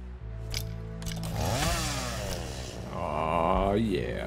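Chainsaw crafted and revved in the video game Satisfactory, a loud buzzing engine whine that rises and falls in pitch over a steady low hum, continuous and close.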